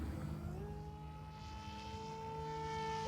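An F-14 jet's engine pushes up to full throttle with a steady, droning roar whose pitch rises early on and then holds, heard fairly faint and continuous with no talking.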